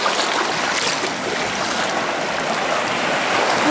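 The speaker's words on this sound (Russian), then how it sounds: "Ну, вот такой Консаулим пляж." Surf rolls onto Cansaulim beach in South Goa, India, as a loud, continuous wash of wave noise with no talk.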